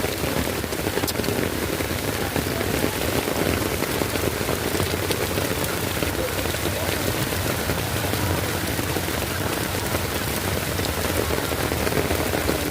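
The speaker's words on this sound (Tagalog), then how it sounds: "Lalong lumalakas yung ulan." Heavy rain pours steadily and loudly, a dense continuous hiss with drops pattering hard on surfaces throughout, on a flooded Sumulong Highway in Marikina, Philippines.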